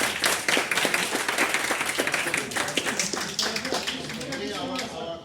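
A tea exchange audience in London claps briefly but densely for about five seconds, the burst of hands loud and close and mixed with chatter and voices.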